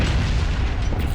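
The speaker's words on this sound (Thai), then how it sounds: "ระเบิดแสง" A flash grenade goes off in Resident Evil 4, a loud, dense blast with booming low rumble that fills the whole moment without pause.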